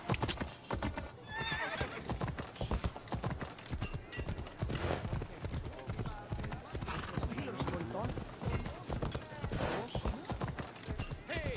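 Hooves gallop in a fast, steady clip-clop and a horse neighs loudly in a video game trailer shown at Ubisoft's E3 2018 press conference, mixed with busy game sound effects and shouting voices.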